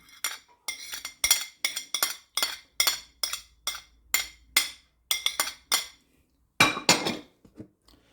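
A metal utensil clinks and scrapes against a pan in quick, regular strikes while garlic and cooked-down onions go in for a tomato bortha, close and crisp with short pauses between bursts.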